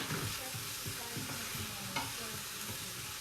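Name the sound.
onions sizzling in a pan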